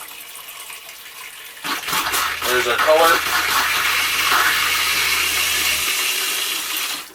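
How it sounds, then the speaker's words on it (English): Water gushes from a bathtub tap in a 1997 Mallard 29S RV bathroom during winterizing, a steady rushing stream starting abruptly and running for several seconds while someone speaks briefly over it. "So same deal, run the water. It's running clear right now."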